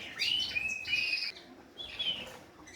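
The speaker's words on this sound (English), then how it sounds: "here behind me is some of the young birds and some of the old hens in the flight cage" Young birds and older hens in an aviary flight cage give bright, clear chirps and tweets in short bursts separated by brief pauses, close by and without talk.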